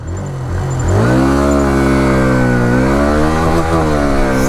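A 2024 Hero Xtreme 160R 4V motorcycle pulls away from a standstill, its engine loud and close as the revs rise through a full-throttle run toward 100 km/h, with a slight dip at a gear change.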